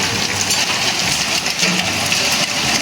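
Hail falls from the sky outside during a summer storm, a dense, steady patter and rattle of stones striking surfaces nearby, heard alone with no voices.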